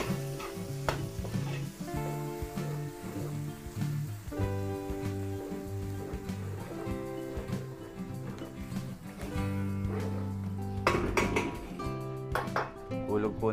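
Plenty of onions fry in a pan and are stirred during large-batch cooking of pork, beef and noodles, a loud constant sizzle with repeated scraping and clanking of the utensil and a low background hum.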